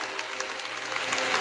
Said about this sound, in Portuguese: Trae ahí un aplauso al Señor.